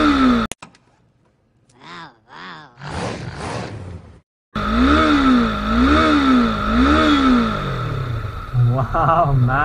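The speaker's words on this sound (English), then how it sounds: "Okay, I'm in neutral now and let's rev it little bit." A Yamaha R3 parallel-twin motorcycle engine is revved in neutral, close and loud, its pitch swinging up and down in repeated blips after a few quieter idling throttle bursts and a brief drop-out.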